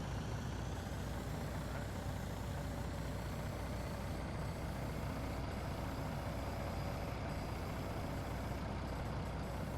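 Truck engine idling in Farming Simulator 19, a continuous low rumble that stays steady and even throughout with no talk over it.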